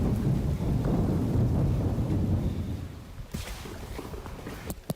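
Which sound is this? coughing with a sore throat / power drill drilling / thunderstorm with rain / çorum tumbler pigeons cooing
thunderstorm with rain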